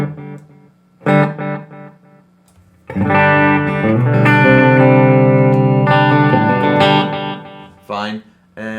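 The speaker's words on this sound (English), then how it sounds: "I'm a big sucker for the vintage digital delay" Electric guitar run through a vintage digital delay on a Line 6 Helix, short plucked phrases first, then a sustained chord passage with repeating echoes trailing off, close and fairly loud.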